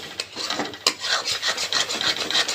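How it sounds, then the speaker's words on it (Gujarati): Milk peda mixture being stirred constantly in a kadai after sugar is added, giving a steady scraping, rasping sound of spoon against metal with repeated strokes, close and alone. "એકદમ હલાવી જ રાખવાનું।"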